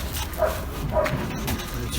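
Puppy at a dog market gives short high yips and whimpers, a few quick cries over a busy background, with people talking nearby.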